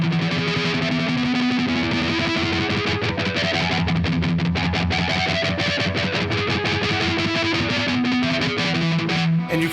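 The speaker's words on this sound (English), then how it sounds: "if you like tremolo pick along the 6th string, you can literally generate harmonics going up and down if you have distortion like this" Heavily distorted electric guitar tremolo picked along the sixth string, a fast continuous stream of notes with harmonics sliding up and down, loud and up close with no talking.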